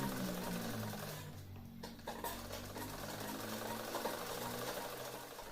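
A domestic sewing machine stitches around a garment neckline, a steady close mechanical whir running throughout with a brief lull and restart partway through.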